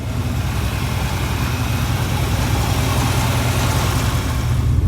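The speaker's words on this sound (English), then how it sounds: "that's how she idles with a correct, proper 160-degree thermostat" A 1975 Chevrolet Corvette engine idles steadily after warming up with a proper 160-degree thermostat, a low, even rumble with a constant pulse that holds close and loud throughout.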